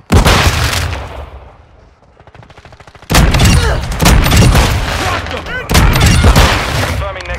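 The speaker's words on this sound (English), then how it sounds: "Throwing grenade!" Video game combat on a shoot house hardpoint: a loud grenade blast decays, then bursts of rapid gunfire and booming shots crack out in heavy, close volleys.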